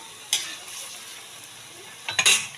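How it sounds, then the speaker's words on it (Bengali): Sweet potato langcha balls frying in oil give a soft, even sizzle in the background, broken by two sharper bursts of a spatula scraping and stirring in the pan, one early and one near the end. "বাকিগুলো আবার তেলে দিয়ে ভেজে নিচ্ছি ঠিক এইভাবে করে"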